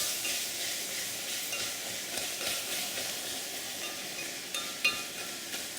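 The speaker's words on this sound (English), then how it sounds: "dump our veggies in. You hear that sizzle?" Steady loud sizzling and hissing of vegetables frying in a hot pot, with faint stirring scrapes and a brief clank near the end.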